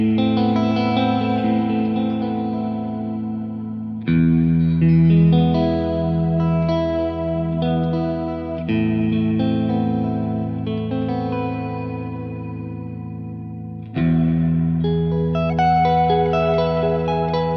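Electric guitar played through a VHT D-20 amplifier with stereo wet effects, sustained chords and notes washed in chorus, echo and reverb, loud and continuous across several phrases with no talking.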